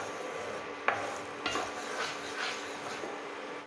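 A ground puree added to a hot pan for homemade veg momo red chutney sizzles steadily while a spoon stirs it, with a few sharp scraping clacks of utensil against the pan; close, no talking.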